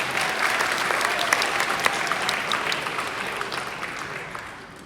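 A business seminar audience breaks into a full burst of sustained clapping from many people, holding steady before tapering slightly toward the end, with no voices on top.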